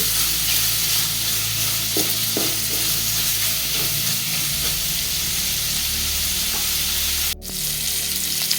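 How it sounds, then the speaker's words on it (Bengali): Shrimp fry in a pan with a loud, continuous close sizzle and hiss, a few faint stirring taps, and a brief sharp click near the end. "এই প্রায় হয়ে গেছে আমার চিংড়ি ভাজা"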